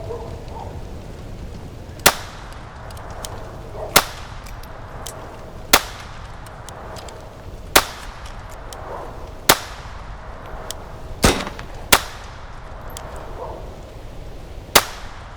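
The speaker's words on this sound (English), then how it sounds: "Shooting about 7 yards, Fiocchi, 73 grain, 32 ACP." Pistol shots from a small .32 ACP pocket pistol firing Fiocchi 73-grain rounds at about seven yards crack out one by one, eight or nine sharp, loud reports at a steady unhurried pace with no talk.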